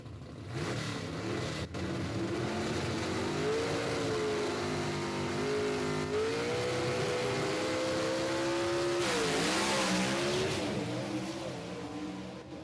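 Drag race cars launch down the strip at Knoxville Dragway, a loud sustained engine roar rising in pitch as they accelerate away, with a sharp surge of noise late in the pass.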